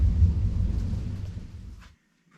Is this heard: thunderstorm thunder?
yes